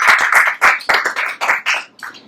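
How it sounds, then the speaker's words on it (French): Applause for speakers at an academic conference session on migration and gender, a smallish group clapping close by in uneven bursts that thin out and fade toward the end. "je propose d'applaudir nos trois"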